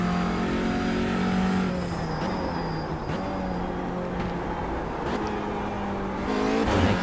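Touring car engine in the iRacing sim, loud and close, droning steadily with shifting revs, a dip around two seconds and a climb again near the end.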